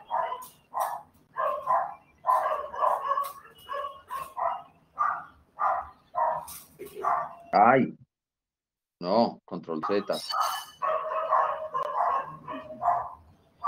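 Several dogs bark repeatedly in quick, uneven bursts at moderate distance, with a brief pause partway through, while people talk quietly in Spanish over the noise.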